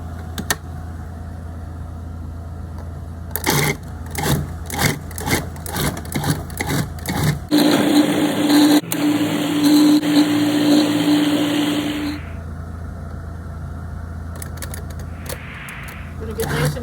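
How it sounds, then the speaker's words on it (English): Food processor pulsing cream cheese with chives and serrano peppers: a run of short bursts gives way to one long loud whir, then stops, with kitchen hum between. "pulse in the food processor"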